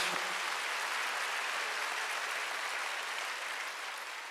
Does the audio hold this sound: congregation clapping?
yes